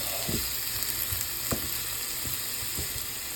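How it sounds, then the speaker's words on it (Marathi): Manchurian balls fry in a spicy masala, giving a steady close sizzle with a few sharp clinks of a spoon stirring through the pan. "मंचुरियन बॉल्स मस्त त्यांना एकजीव म्हणजे सगळा मसाला लागला पाहिजे असं मस्त फ्राय करून घ्यायचं"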